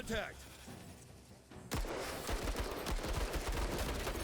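Gunfire in the video game Menace: after a short lull, a rapid burst of shots erupts and continues as a loud, sustained volley of cracks and thuds.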